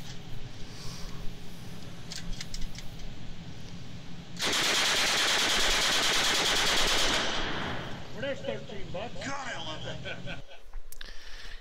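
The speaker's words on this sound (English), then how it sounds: "Yes, that's me, the fat kid shooting the Uzi." Rapid automatic Uzi submachine gun fire played back in a video, a sustained loud burst of several seconds, with someone talking before and after.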